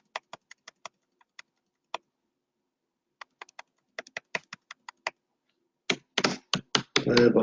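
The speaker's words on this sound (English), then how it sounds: "Let's type" Keys clicking on a computer keyboard, scattered individual taps at first, then a denser run of rapid typing toward the end, quiet and close with no voices.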